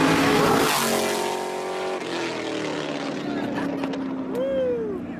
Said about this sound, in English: You hear that fucking super truck?